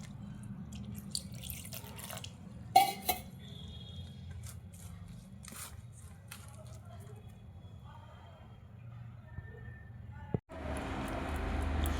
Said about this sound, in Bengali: একটু একটু করে জল দিয়ে ব্যাটারটা রেডি করে নেব